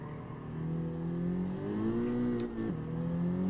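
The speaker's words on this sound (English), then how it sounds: "Wheel spin." An engine-swapped Honda Civic spinning its wheels in Gran Turismo 7, the engine droning and rising in pitch under load, then briefly dropping before picking back up, loud and close with no talk.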